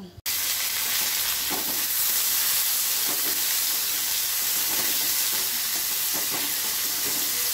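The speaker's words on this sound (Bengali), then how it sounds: "গরম হয়ে গেছে এর মধ্যে আমি এবার পেঁয়াজ দিয়ে দেবো" Steady, loud sizzling of onions frying in hot oil, a continuous crackling hiss with occasional bursts of spattering, no voices.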